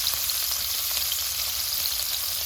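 Shrimp sizzle in a hot pan, a steady, dense crackle of frying that stays even and close throughout with no talking.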